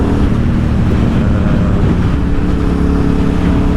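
A 2007 KTM 950 SMR motorcycle engine runs loud and close while riding, a constant rumbling drone mixed with heavy wind buffeting, with no voices.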